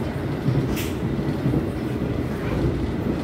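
An Argo Cirebon economy-class passenger train rolls through Kelari station, heard from inside as a loud, steady rumble of wheels and carriage noise with faint squeals.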